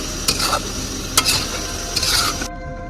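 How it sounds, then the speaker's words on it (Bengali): Potatoes and spices stir-fried in a pan give a loud, steady sizzle. Several sharp scraping strokes of a spoon cut through it before the sound stops abruptly near the end, with no one speaking. "মশলা দিয়ে আলু দিয়ে পুরো কষানো হয়ে যাবে"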